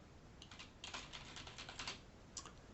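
Typing on a computer keyboard, a quiet run of light key clicks in irregular bursts with a few louder strokes, heard alone without talk.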